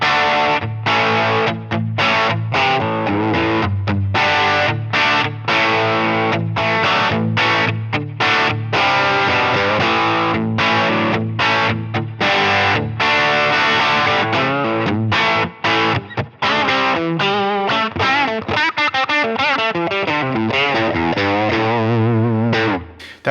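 Electric guitar on the bridge and middle pickups runs through a Line 6 Helix modeling a Victoria Electro Kin amp, playing loud, driven chords and riffs with a crunchy distorted tone and choppy stops, then ringing out more openly near the end.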